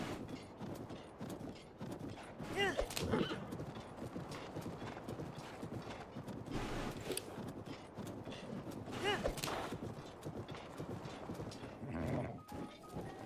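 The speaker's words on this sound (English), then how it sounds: "Good horse." Horse hooves clip-clop in a steady trotting rhythm across Zelda: Breath of the Wild, close and continuous over the full stretch, with occasional creaks and louder bursts mixed in.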